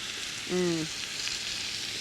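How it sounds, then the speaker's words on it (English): Portobello mushrooms hitting a hot cast iron grill pan, giving a steady close sizzle with a short tonal squeak near the start and no talking. "So just place them on your grill pan. I put them top side down, and we'll be turning them halfway."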